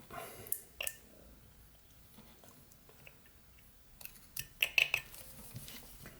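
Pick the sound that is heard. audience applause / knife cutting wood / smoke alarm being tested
knife cutting wood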